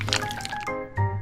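An egg cracks open for miniature rainbow chocolate cake batter: one short, close crack with a light wet squish, followed by a second brief burst of sound.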